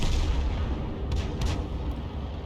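Self-propelled artillery gun in a tank video game, a heavy low rumbling boom with sharp cracks, loud and close, rolling on for the whole short stretch.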